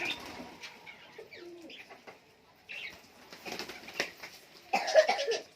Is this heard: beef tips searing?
no